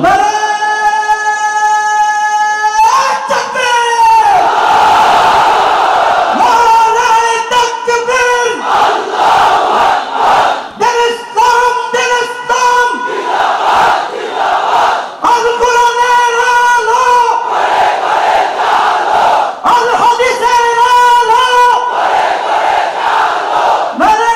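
A large crowd chants the takbir "Allahu Akbar" in unison, loud and close. The call rises in repeated sustained phrases of about two seconds each, separated by brief pauses, and carries on steadily throughout.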